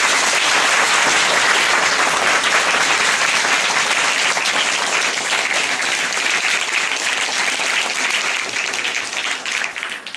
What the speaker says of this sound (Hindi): इनके लिए एक बार यहाँ आने पर जोरदार तालियां